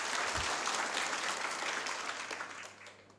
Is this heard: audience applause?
yes